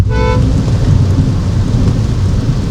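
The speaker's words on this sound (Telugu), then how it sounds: "వర్షం కూడా చూడండి, వర్షం పడుతూనే ఉంది" Heavy rain pouring down steadily beside a highway, a loud continuous roar with a low rumble underneath and a brief tone at the start.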